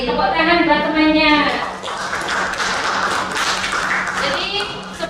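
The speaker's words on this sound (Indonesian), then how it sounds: "Tepuk tangan buat temannya." Classroom clapping: a group bursts into applause for a few seconds, with children's voices talking before and after.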